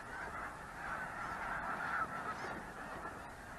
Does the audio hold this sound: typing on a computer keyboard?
no